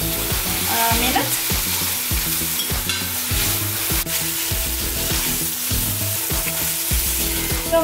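Garlic and celery stalks fry in a hot pan for lagman, with steady loud sizzling punctuated by repeated rhythmic scrapes and clanks of stirring, close up and without talk.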